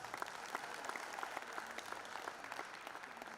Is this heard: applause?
yes